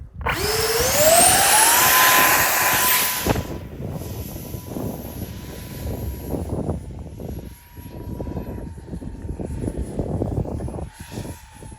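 A Batwing model aircraft's small electric motor rises in a loud whining sweep as it is launched, then drones on more faintly under gusty wind noise.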